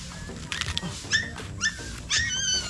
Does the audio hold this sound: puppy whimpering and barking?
yes